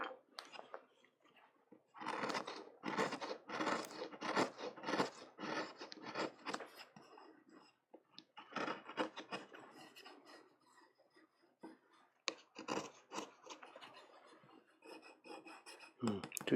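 A woodblock for Japanese printmaking is smoothed by hand, giving bursts of dry, scraping rasp strokes. They come in rapid runs separated by short pauses, close and moderately loud, with no talking.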